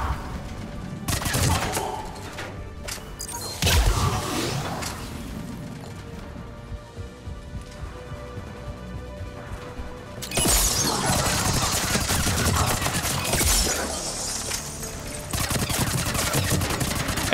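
Gunfire in the video game Mass Effect 3 during a fight with a Centurion: bursts of loud, rapid shots, a short volley early on, then a long sustained barrage of automatic fire with crashes in the second half.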